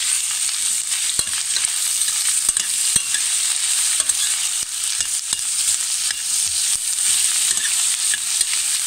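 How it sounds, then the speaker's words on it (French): Onions sauté in a very hot pan, a bright constant sizzle up close punctuated by repeated clicks and scrapes of stirring, no talking. "je viens mettre mes oignons pour les faire revenir"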